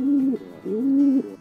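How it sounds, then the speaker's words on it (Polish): Two low, throaty coos from a feral pigeon, each a soft rolling note, sounding close and clear with a short pause between them. "Gołąb miejski."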